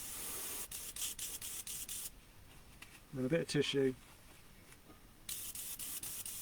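An airbrush sprays cleaner into a box while an RC body shell is being custom painted: a steady close hiss that stops for a short spoken phrase, then starts again.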